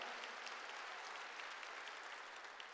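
A church congregation claps continuously for about three seconds. The applause is even and dense, with no voices over it.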